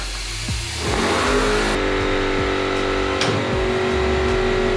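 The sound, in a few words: YuanMech N956 tire changer operating via pedal switches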